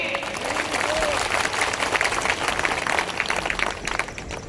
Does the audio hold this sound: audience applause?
yes